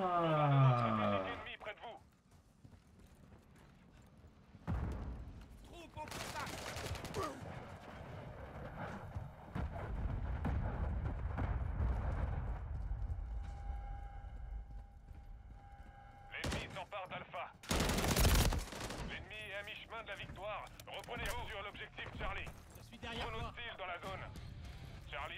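Grenade blasts and bursts of gunfire in a Call of Duty MW3 Domination multiplayer match: a few loud, sharp explosive hits spaced through the round, with someone talking excitedly over the game action.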